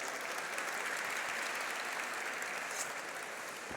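Audience applause at a store launch event for a Project Runway winner: dense, steady clapping from a large crowd, loud and sustained throughout without pause.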